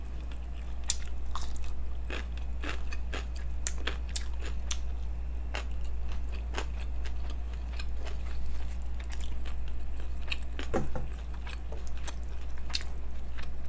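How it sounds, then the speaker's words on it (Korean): Close-up chewing of stir-fried green onion bulgogi with Chinese glass noodles, eaten on one side of the mouth: irregular soft crunching and squishy bites over a constant low hum, with no talking. "한쪽으로 씹으니까 많이 못 집어넣겠어."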